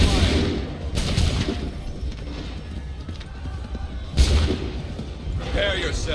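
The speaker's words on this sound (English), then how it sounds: "Open fire." Gunfire volley in Assassin's Creed III Remastered, a few loud booming musket blasts, one near the start and another heavy one partway through, with rumbling echoes and battle noise between.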